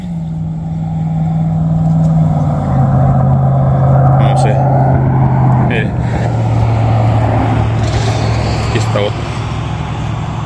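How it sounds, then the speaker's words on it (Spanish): Cars rush past fast on a roadside, one after another, their loud engine and tire roar swelling and fading over about ten seconds, with voices faintly underneath. "Pasan recio los carros"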